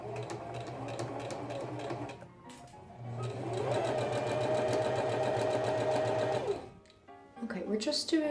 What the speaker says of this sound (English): Next I sewed my shoulder seam and pressed it into place.